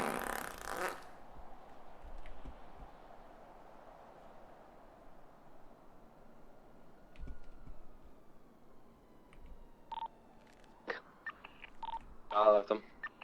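Fart noises come through an online game voice chat as a cluster of short, raspy bursts near the end, after a long, quiet stretch with faint background hum.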